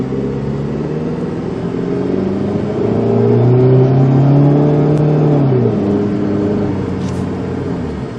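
A Chrysler PT Cruiser engine hums and rises in pitch as the car accelerates from inside the cabin, a steady droning pull that peaks and then eases off.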